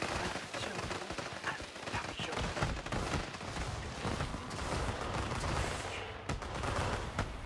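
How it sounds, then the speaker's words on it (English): Fireworks show in the park-building game Planet Coaster 2, a dense continuous barrage of crackling bursts and booms rolling on for several seconds at steady loudness. "fireworks are going on right now."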